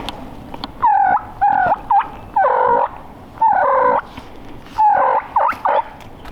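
A wild turkey gobbler in big hilly public hunting land gobbles loudly and repeatedly, about six rattling calls in bursts, close and clear with no talk.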